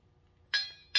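Metal nut clinking twice against parts of a Dixie Chopper mower while a sharpened blade is refitted, two bright sharp taps close by over a faint low hum.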